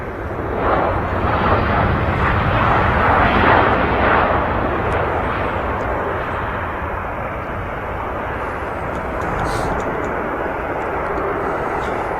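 An 11-year-old TUI Germany airliner touching down at Manchester Airport, a loud, continuous broadband engine roar and rushing rumble that swells early and then holds steady for about twelve seconds with no talk.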